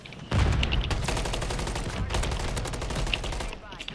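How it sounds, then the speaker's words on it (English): Rapid video-game shotgun fire on a rooftop above a laundromat: a loud burst of overlapping blasts that keeps up without a break for several seconds, with a brief voice underneath. "Shotgun, sick."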